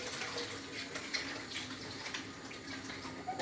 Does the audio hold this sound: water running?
yes